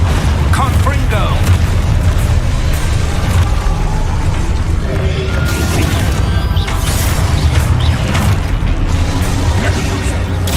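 Booming Confringo spell blasts in Hogwarts Legacy, played as a cat-themed wizard, bursting repeatedly within a dense, constant wash of loud game noise and effects.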